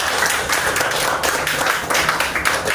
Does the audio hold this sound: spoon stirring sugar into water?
no